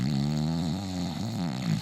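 A voice imitates a turtle snoring, a sustained, droning nasal rumble held for nearly two seconds with a slight wobble and lift toward the end, close and fairly loud.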